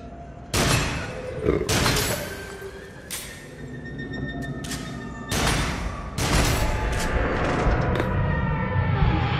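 Shotgun blasts fire in the horror shooter game Until Dawn: Rush of Blood, several loud sharp booms spaced a second or two apart amid game noise and a player's voice.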